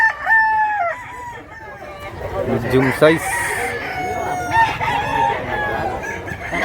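A roster of chickens for sale at a Mantalungon, Cebu market, including a two-year-old medium-size rooster, crows and clucks in a loud, busy mix with someone talking over them throughout.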